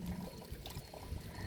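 Water is poured onto okra plants in a home garden, giving a soft, steady trickle that stays fairly faint throughout, with no talking.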